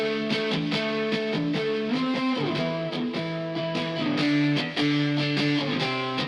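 Distorted electric guitars layered into a pop chorus, brightened with high shelf EQ and a short reverb, chugging steadily in sustained chords with shifting harmony, loud and dense throughout with no voices.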